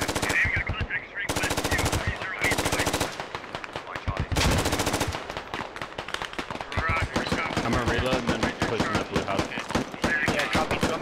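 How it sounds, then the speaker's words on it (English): Dense automatic and single-shot gunfire in the tactical military shooter game Squad, loud bursts of rifle and machine-gun fire rattling almost continuously with a few brief pauses. "Headbust, and Pardalin doing their best to put some rounds in on the up four, who are not anticipating them from the south."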